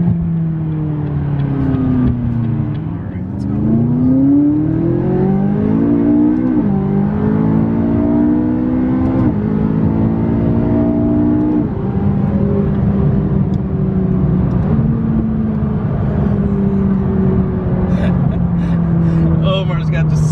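A straight-piped McLaren 570S tuned to 650 hp accelerates at half throttle, its engine note rising through gears in loud, steady sweeps with brief dips at shifts, heard from inside the cabin with faint voices underneath.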